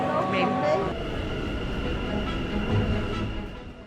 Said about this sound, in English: Our journey to the hotel began hopping into a crowded train into the central station.